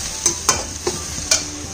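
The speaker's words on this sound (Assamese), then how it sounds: "আৰু অকণ ভাজি খাওঁ দালিখিনিও" Dal frying in a pan while a spoon stirs and scrapes it, giving four short separate scraping strokes over a steady soft sizzle, close and alone with no talk.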